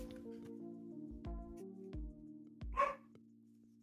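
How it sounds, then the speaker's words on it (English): A dog at home gives one short bark at a familiar person's arriving car, brief and fairly near, over a low steady hum. "That bark is the bark he reserves for familiar people"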